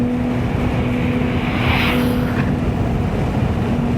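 A 2011 Porsche Boxster Spyder fitted with the Cayman S flat-six, heard from inside while driving with a six-speed manual, gives a loud, steady engine drone with a constant hum and a brief rising swell midway.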